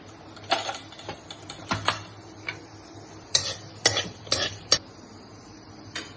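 Mustard and cumin seeds tempering in oil for tamarind chutney give sharp, scattered pops and ticks, some in quick clusters, over a faint background. No voices.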